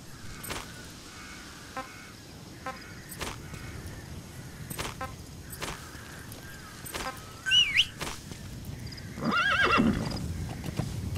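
In the video game Metal Gear Solid V: The Phantom Pain, a horse whinnies loudly twice near the end, after scattered hoof clops and faint birdsong in an otherwise quiet outdoor scene.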